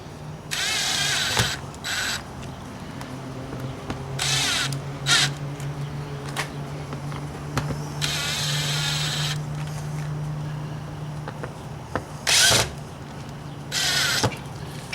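A fastener being tightened on a tail light during a DIY travel trailer build, with intermittent bursts of a small power driver whirring in short runs over a steady background hum, close and fairly loud, with no talk.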